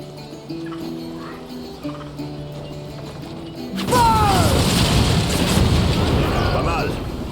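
Ship cannons fire at a wreck in the pirate video game Assassin's Creed Black Flag. A tonal musical passage comes first, then a loud, sustained barrage of booming blasts and crashing debris fills the second half.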